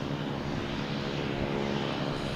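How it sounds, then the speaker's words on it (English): A JetBlue Airbus A220 airliner landing at Boston Logan Airport from Fort Myers, a loud, close, steady engine roar with a rushing broadband whine and no pauses. "Next coming in is a JetBlue coming in from Fort Myers, an A220."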